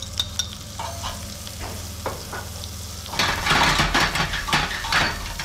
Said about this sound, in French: And then he adds the onion.